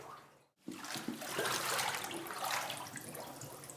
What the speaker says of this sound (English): we take the dry, scraped hide and put it right in the water